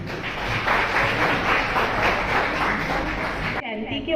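Loud, dense applause from an audience at a hospital celebration of Dr. B. R. Ambedkar's birth anniversary, sustained and even before cutting off abruptly near the end.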